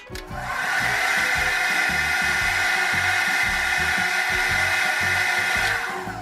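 SilverCrest SWC 1000 D1 hot air styler, a 1000 W brush-type dryer, blowing a steady, loud airy whoosh with a motor hum close by, starting and stopping within a few seconds.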